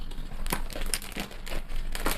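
Two small sachets of dry cosmetic powder being crinkled and handled, a steady crackly rustle with sharper crinkles at intervals, close and alone.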